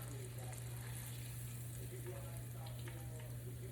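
Pork chop frying in a skillet on a stove, a steady close crackling sizzle with a low hum running underneath throughout.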